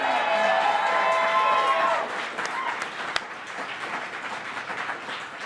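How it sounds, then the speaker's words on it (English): A crowd at a live show in Las Vegas applauds, the clapping rising after a brief tonal passage and then continuing at a moderate level while a voice speaks over it. "I hope all of you watching and listening to this heard that applause by this great crowd."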